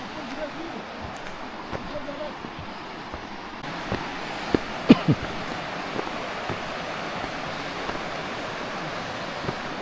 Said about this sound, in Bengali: দেখো ওইখান দিয়ে ঝর্ণাটা বইছে